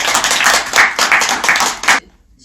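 Strong, close applause from an audience at a party founding convention, approving a vote with dense clapping that stops abruptly after about two seconds.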